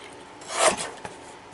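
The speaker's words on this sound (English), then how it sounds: "So let's trim this off." A single short rasping stroke of a trimmer blade slicing through paper for a craft embellishment, rising and fading within about half a second, followed by a faint click.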